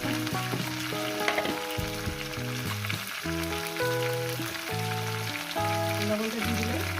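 Potatoes, beans, eggplant, bori and pea leaves fry in a pan for a chachchari, a steady sizzle running beneath a loud melodic music track throughout.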